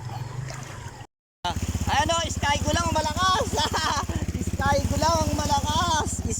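A motorcycle ride in Poblacion 2, Marilao, Bulacan: a steady, close engine drone runs throughout after a brief cut near the start, with someone talking loudly over it.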